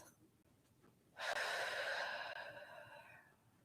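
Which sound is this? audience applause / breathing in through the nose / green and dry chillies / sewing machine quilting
breathing in through the nose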